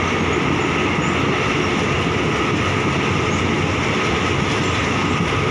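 An ordinary passenger train rolls along steadily in Thailand, a constant loud rumble and hiss of wheels on rails heard from inside the carriage, with no pauses.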